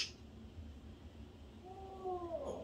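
A cat gives one clear rising-then-falling meow near the end, following a quiet, faintly noisy room; close and moderately loud, no talking.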